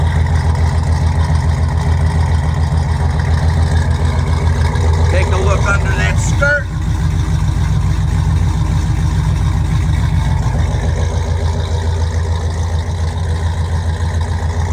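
A 1969 Oldsmobile Cutlass V8 with a performance cam idles steadily with a lumpy, loping rumble throughout, while someone talks over it.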